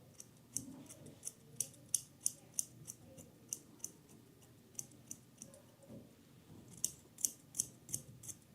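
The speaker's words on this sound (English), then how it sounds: "now using thinning shears, and then I'm finishing up" Thinning shears snipping a schnauzer's head hair during a grooming trim: crisp, close metallic clicks in irregular bursts, sometimes spaced, sometimes in quick runs, over a quiet background with no talking.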